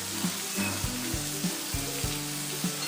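Chopped spring onions and coriander sauté in a pan for Khandeshi vangyacha bharit with a steady, close sizzle. Soft rhythmic knocks of stirring recur about every half second.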